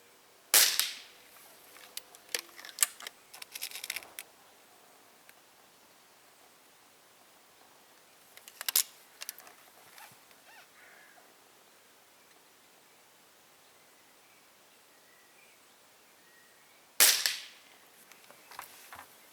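Sport rifle from FWB with open sights, fired at a 45 metre range: three sharp, crisp shots, the first with a short burst of follow-up clicks, spaced well apart with quiet gaps between.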